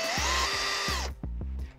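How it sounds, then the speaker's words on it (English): A power drill whirs at high speed for about a second, then a few short bursts of drilling pilot holes for screws follow, close up and loud. "So I'm going to pilot drill those."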